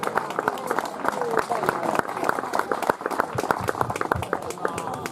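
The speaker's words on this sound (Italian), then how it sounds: "Un applauso a Francesco Gambicano de Vattara." An audience at an outdoor poetry prize evening applauds a prize winner, with dense, sustained clapping from a crowd, fairly distant, with some voices mixed in.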